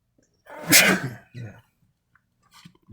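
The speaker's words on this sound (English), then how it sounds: "today I'm sneezing" A single loud sneeze from a man close by, followed by a short breath or exhale and quiet, with a brief murmur at the end.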